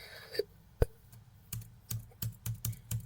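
Keys tapped on a computer keyboard while writing a CV document, a few scattered presses then a steady run of soft clicks, close and fairly quiet with no talking.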